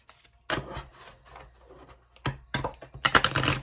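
Tarot cards are shuffled by hand in a few bursts of papery riffling and tapping, quiet at first, then busier and louder near the end, with no talk.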